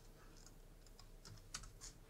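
Computer keyboard keys tapped while typing code in a web design tutorial, a quiet run of light, uneven clicks with a couple of sharper strokes near the end.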